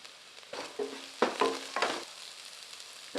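Carrots and chopped coriander sizzle and scrape in a hot pan as a spatula stirs them in a few short bursts, close by, with no talk.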